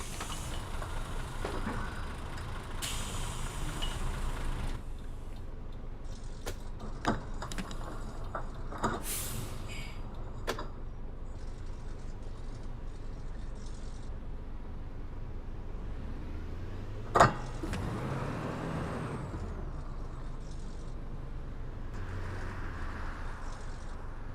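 Engine of an Optare Spectra low-floor bus in the simulator game OMSI 2, a quiet, steady hum while stuck in traffic, with a few soft clicks and one brief sharp knock.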